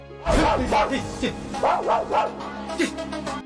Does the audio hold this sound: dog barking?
yes